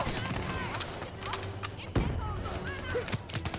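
Gunfire from the video game Call of Duty Black Ops 3 cracks in a few sharp shots, including one louder bang midway, mixed with game effects and people chatting over it.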